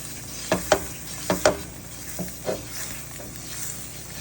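Spices and chicken bouillon stirred in a pot, several close scrapes and knocks of a utensil in two quick pairs then softer strokes, over a low steady sizzle.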